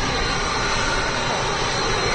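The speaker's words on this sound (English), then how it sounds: "Air brake test on the Hawks you just saw there." Red Arrows BAE Hawk jet engines running during an air brake test at Hawarden Airport, a loud, steady broadband roar that holds unbroken throughout without voices.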